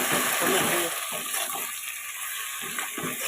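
Goat leg pieces sautéing with onion and four cloves of garlic in a pan give a steady broadband sizzle, with soft scraping stirs at irregular intervals, close and fairly loud throughout.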